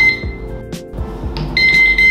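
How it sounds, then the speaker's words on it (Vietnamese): A 5-line laser level beeps when tilted off level, sharp electronic alarm beeps sounding in quick bursts, close and loud, with some handling clatter between them and no talking. "Khi máy ở chế độ mở tia mà mình nghiêng máy thì máy sẽ phát ra những tiếng kêu bíp này, báo hiệu là máy chưa cân bằng."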